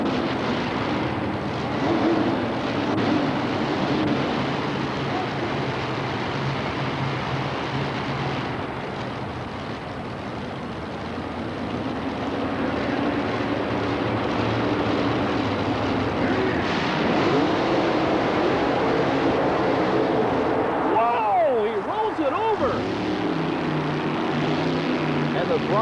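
Monster truck engines roar at the start of a 1990 USHRA race in New Orleans, a sustained loud, rough engine drone lasting throughout, with a brief surge near the end and an announcer talking over it.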